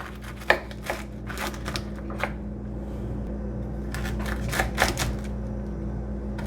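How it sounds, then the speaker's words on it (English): A knife slices vegetables on a cutting board for tacos, giving quick close taps in irregular clusters over a low steady background hum, with no voices. "Once we finish slicing in one direction, we're gonna turn around and cut in quarters."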